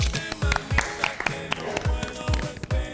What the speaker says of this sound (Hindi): ईमान के लिए भी तालियां